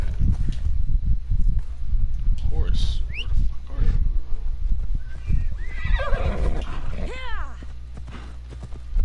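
A horse in the video game Assassin's Creed Odyssey neighs loudly with sweeping whinnies over clip-clopping hooves and low rumbling background, with voices talking over it.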